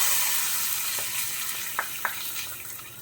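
Fried urad dal tempering tipped into a Kerala gooseberry (nellikka) ozhichu curry gives a steady close-up sizzle, with two sharp clicks partway through.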